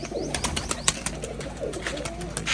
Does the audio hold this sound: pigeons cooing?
yes